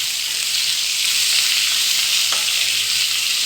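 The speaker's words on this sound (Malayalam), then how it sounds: "സവാള നന്നായി നമുക്കൊന്ന് മൂപ്പിച്ചെടുക്കാം," Sliced onions sizzle steadily in a hot pan with salt while being sautéed for a chicken dry roast, a loud, continuous hiss with no voices over it.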